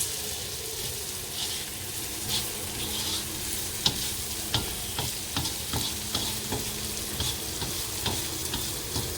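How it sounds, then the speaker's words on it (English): Salted vegetables for a cheesy basil pasta cook in a pan, giving a steady sizzle with frequent clacks and scrapes as they are stirred and tossed, close and moderately loud, with no speech. "Cook this till the vegetables are softened"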